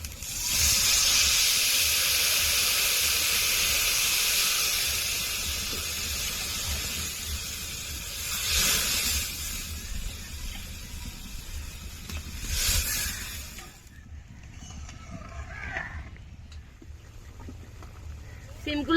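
Water poured into a hot pan of fried potatoes for a Bengali parshe fish and bean curry hisses and sizzles loudly at first, then fades to a softer bubbling with brief sizzling bursts.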